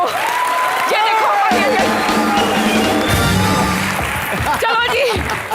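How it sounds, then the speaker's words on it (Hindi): Studio audience on a comedy show clapping and cheering steadily under loud voices and music, the applause sustained throughout. "ओए जोर से तालियां मारो"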